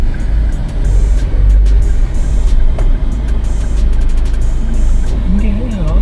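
Steady road traffic on Langkawi Island in Malaysia, with car engines rumbling and vehicles passing close by, a loud continuous drone, while people talk over it.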